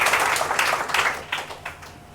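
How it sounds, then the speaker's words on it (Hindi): An audience at an event breaks into applause, a dense burst of clapping from many hands that swells and then thins slightly over a couple of seconds. "एक जोरदार तालियां होनी चाहिए"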